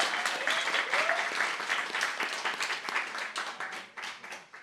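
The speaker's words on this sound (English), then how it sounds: "A huge round of applause to Hannah and Declan." Audience applause at an art forum talk, a lively burst of many hands clapping that stays strong, then begins to break up and taper toward the end.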